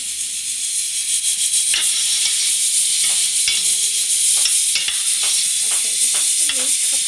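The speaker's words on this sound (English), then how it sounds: "this is the meat cooking with some of your onions and green onions, celery" Meat sautés in a pot with onions, green onions and celery for cook-up rice, a loud continuous close sizzle and frying hiss with a few scraping stirs, no voices.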